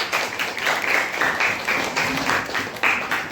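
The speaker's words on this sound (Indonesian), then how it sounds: "Kasih tepuk tangan dulu untuk Sofi." A classroom audience claps for a student named Sofi after a Quran recitation, a short burst of scattered, lively hand clapping lasting a few seconds.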